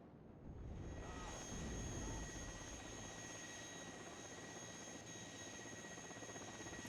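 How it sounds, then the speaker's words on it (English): A steady helicopter engine drone in the video game Warno hums continuously at moderate distance with rumbling engine noise throughout. "pulling up the helicopter to try and finish all this off"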